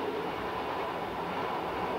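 Cab ride on a train running from Carlisle to Newcastle in 1988, on a route once freight only: a steady, low rumbling roll of wheels on rail, even and continuous with no voices.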